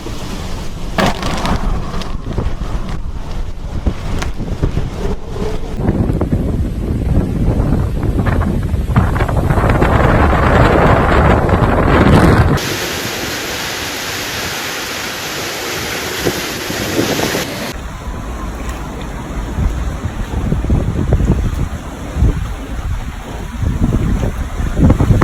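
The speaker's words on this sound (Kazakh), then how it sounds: "Бұл дауыл кейбір жеңіл нәрселерді ұшырып әкетеді." A hurricane in an animated educational cartoon roars as a loud, continuous rushing gust with surf-like swells that shift in character partway through, steady and enveloping without any voices.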